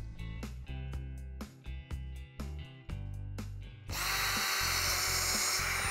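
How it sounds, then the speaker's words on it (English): A power drill whirs in repeated short bursts, stopping and starting several times, then runs continuously with a harsher, louder grinding as it bores into material. "Then drill two holes evenly spaced along the edge."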